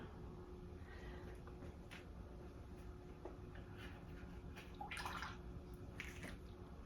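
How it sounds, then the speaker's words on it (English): Acrylic paint brushes are rinsed in water, a soft, continuous watery wash with a few brief splashy swishes near the end, faint and close, with no talking. "Rinse your brushes off in between, just so that your brushes the paint doesn't start to dry in them"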